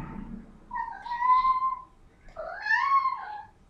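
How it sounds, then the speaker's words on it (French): A cat meows twice, two drawn-out, rising-and-falling cries separated by a short pause, fairly close and clear over a quiet background. "Tais-toi, le chat."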